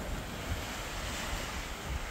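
Ocean waves wash steadily onto a beach at Pinamalayan, Oriental Mindoro, a continuous broad surf rush with wind buffeting the microphone and no voices.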